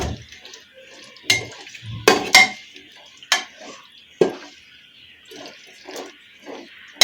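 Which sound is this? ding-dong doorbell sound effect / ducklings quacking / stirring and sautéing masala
stirring and sautéing masala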